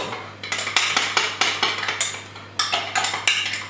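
A spoon stirs dried basil into homemade pizza sauce in a bowl, giving a quick regular series of close clinks and scrapes against the container, steady rhythm with no talking, over a faint low hum.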